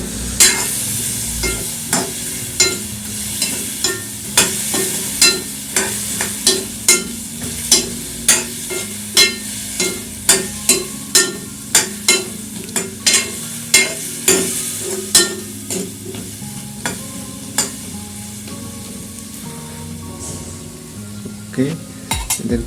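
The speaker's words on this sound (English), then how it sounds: "Let's fry with this dadu." Chayote frying in a pan, stirred with a metal ladle: a steady sizzle runs throughout, cut by regular scraping and clinking strokes of the ladle against the pan, close and fairly loud, with no voice.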